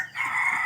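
A skittish wild chicken, a rooster, gives a brief, strained crow fragment, a steady tonal call that is fairly clear and close, with no talk.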